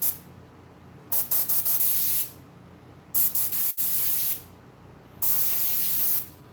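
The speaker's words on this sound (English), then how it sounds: "I am airbrushing here." An airbrush sprays paint onto mask fur in three separate bursts of steady, close hiss, each a second or so long, with quiet pauses between them and no talk.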